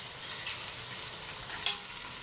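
Crabs and shrimps stir-fried in a pan over gas at maximum heat for a Catalan monkfish stew: a soft, steady sizzle with one brief scrape of the utensil near the end, no voices.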